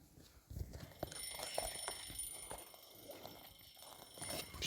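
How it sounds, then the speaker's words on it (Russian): An alarm clock rings in the horror video game Metel, chapter 4, its bright repeating electronic tone running steadily throughout at a quiet level amid faint clatter. "Сейчас звоним в будильник."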